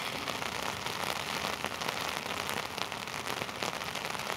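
Heavy rain beats down on a city street during a rainstorm in Norwich, Connecticut, a dense, steady hiss and patter that stays constant and loud throughout, with no voices.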